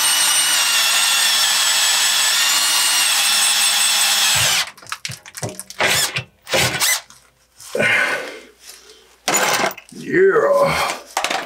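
A power drill whines loudly and continuously for several seconds, then stops, while installing a Webasto Dual Top Evo 6 diesel heater; short clunks and bursts of handling noise follow, with brief talk.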